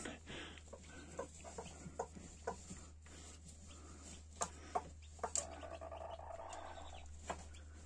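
Newly hatched chicks give soft, short peeps at irregular intervals over a low steady hum, heard close and fairly faint.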